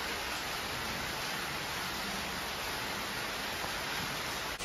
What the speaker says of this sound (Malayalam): നല്ല മഴയാണ്. മഴ കണ്ടുകൊണ്ട് ഞങ്ങളിങ്ങനെ ഇരിക്കുകയാണ്.